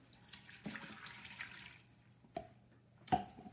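About 1.5 cups of water pours into an Instant Pot in a soft, short stream, followed by a couple of light drips or clinks. It is quiet and close, with no voices.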